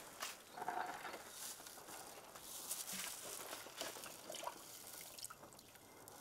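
Tulsi water is poured from a mug into a container of decomposer mixture for organic pesticide, a continuous faint splashing and trickling with soft drips throughout.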